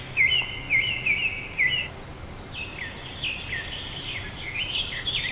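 A bird chirps and sings in clear, high tweets, first several sharp repeated chirps close by, then a softer, busier run of song that continues over a faint background hiss.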